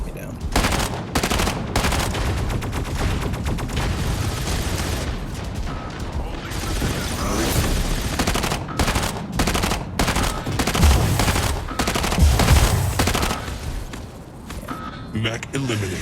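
Mech gunfire in the Mech Arena video game: loud, dense automatic bursts roll almost without pause over sixteen seconds, mixed with clanking mechanical impacts and heavier shots near the end.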